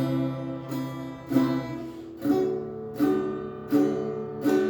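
A cheap, freshly tuned, Taiwan-built junior acoustic guitar strummed in slow, separate chords, about six strums ringing out one after another with a slightly thin, jangly tone and no voices.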